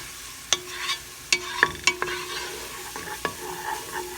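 Minced garlic goes into onion frying in a pan, with a soft continuous sizzle under several sharp spatula taps and scrapes against the pan, close up and without voices.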